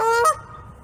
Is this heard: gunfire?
no